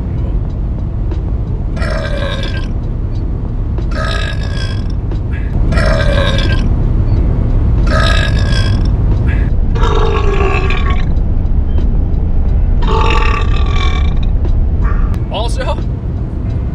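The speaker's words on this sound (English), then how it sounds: "BURPING CONTEST" Loud, repeated burps in a burping contest, about seven long voiced belches in a steady series over a constant low rumble of background noise, with a short higher burst near the end.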